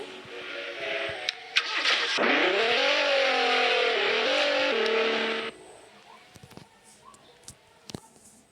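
A car in a driving video game revs and accelerates, its engine pitch climbing and shifting through gears for several seconds before cutting off abruptly, followed by scattered clicks and faint background noise.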